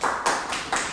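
Congregation clapping together in a church during a Korean sermon, several short bursts of hand claps in quick succession, moderately loud and close.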